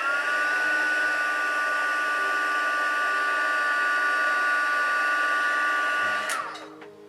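A heat tool blows a loud, steady whine with a rushing airflow as it heat-sets paint on creases. Near the end it switches off and the whine drops away.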